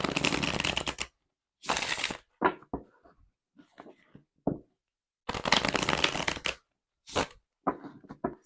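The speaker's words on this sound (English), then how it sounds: "I'm gonna try to split it in half and shuffle it that way" Several bursts of a stiff, brand-new 97-card Minchiate tarot deck being split in half and riffle-shuffled up close, with short pauses and small taps and rustles between.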